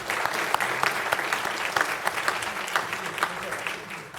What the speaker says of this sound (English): Let's give Tyler another round of applause.